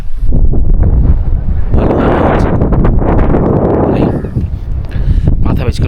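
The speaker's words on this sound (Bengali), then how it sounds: "ভালোই হাওয়া দিচ্ছে" Strong wind roars across the microphone on the Kuari Pass trek in Uttarakhand, a loud continuous buffeting rush that surges in the middle while a voice talks beneath it.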